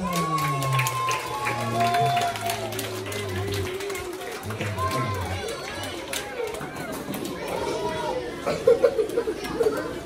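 Applause and crowd chatter from the audience at a Malaysian Maulidurrasul religious lecture, a steady murmur of voices and scattered clapping with a person talking over it and sharper claps near the end.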